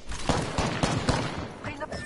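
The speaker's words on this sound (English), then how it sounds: "Getting shot at." Video game gunfire, a dense volley of repeated loud shots in an uneven rhythm throughout, with a faint voice underneath.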